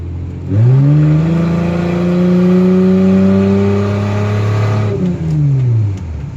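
A 1994 Lexus ES300's engine and exhaust drone loudly and steadily while driving, rising at the start, then holding an even hum before easing off near the end.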